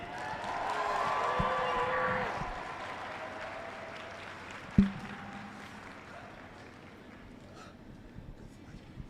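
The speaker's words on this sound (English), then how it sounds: "How about a huge round of applause for NAU for hosting us again?" A crowd at a robotics state championship on the Northern Arizona University campus claps, strongest at first and then gradually thinning and fading toward quiet, with one sharp knock midway.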